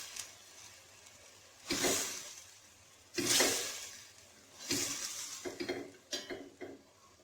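A spoon scrapes and stirs mutton malai curry with red chilli, fenugreek and garam masala in a pot, in three distinct close, loud mixing bursts separated by quieter pauses over a low sizzle.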